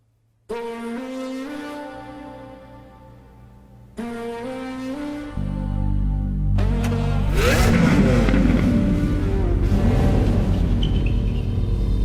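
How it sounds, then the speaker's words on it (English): A Lamborghini Aventador's naturally aspirated V12 revs in two sharp bursts that rise in pitch, then settles into a heavy, loud, sustained roar with rumbling and crackle, close and alone without voices. "Our naturally aspirated V12 and the Aventador prove this once more."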